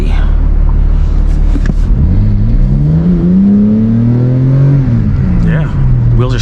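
A stock BMW G82 M4 launches hard with its wheels spinning, the engine note climbing in a steady loud rising sweep for several seconds before easing off, heavy road rumble throughout.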